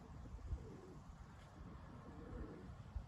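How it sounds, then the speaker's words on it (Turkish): Soft, low cooing from pet pigeons kept in a loft, a few faint murmuring coos spread across a quiet background with no talk. "Şöyle bir kuşlarımıza bakalım."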